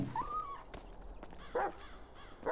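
A Belgian Malinois police dog in GTA 5 gives a few short, separate barks and yelps over a low background hum, with no voices present.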